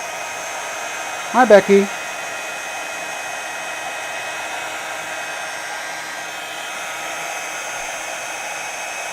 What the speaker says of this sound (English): take another heat tool and melt that powder